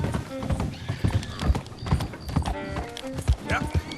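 Rhythmic hoofbeats clop along at a quick, uneven pace in the video game Red Dead Redemption 2, with a horse snorting and a brief whinny mixed in.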